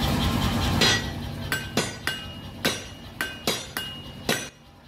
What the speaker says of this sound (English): While I was hammering away at my tiny little knife